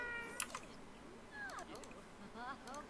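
Cat meows from a pet in The Sims 4, a few short rising-and-falling calls repeating near the end, mid-level over a soft game background with clicky taps.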